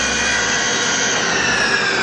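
The spindle of a 2000 Atrump B5FC CNC machine runs at close to 4,000 RPM. A loud, steady whine with an even, unbroken roar throughout and no talk over it.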